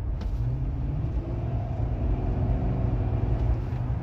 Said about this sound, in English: I'm going to do a few test hits on the throttle, show you what it sounds like before and after the exhaust.